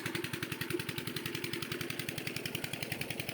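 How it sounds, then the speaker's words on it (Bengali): A motor-driven irrigation pump runs beside a maize field, its engine thumping in a fast, steady, even rhythm at close range with no talk over it. "এই যে এখানে মোটর চলছে, মেশিন, এইটা দিয়ে ভুট্টা জমিতে সেচ দেওয়া হচ্ছে।"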